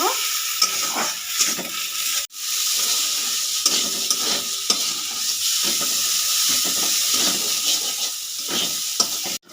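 Fish head and Gobindobhog rice sizzle loudly in a pan for murighonto, with continuous frying hiss and repeated scraping stirs, close and steady, one brief break partway through.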